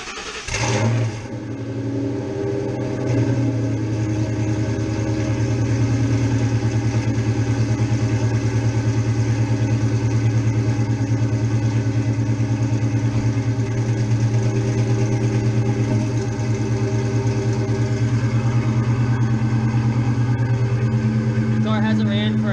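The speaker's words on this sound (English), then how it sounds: "I'm gonna let it idle for a minute and then I'll hop back in it and rev it up a little for you" Ford Mustang GT 4.6 V8 with long tube headers and an X pipe starts and settles into a deep, loud, rumbling idle that stays steady and close for about twenty seconds, with no voices.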